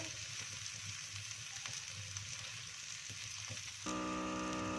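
Kaleji masala with onions frying on a street-style tawa, a steady close sizzle and crackle at moderate level, shifting to a humming, more even tone in the last second.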